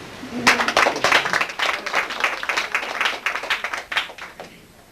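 Audience applause for a speaker at a Sai Baba centre gathering in Brazil: a dense, steady patter of many hands clapping, fairly close, swelling early and holding through to the end.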